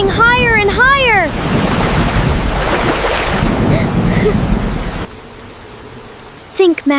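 Rising floodwater surges with waves in a loud, steady, broadband roar of churning water, with a brief voice-like wail at the start and short sharp sounds near the end.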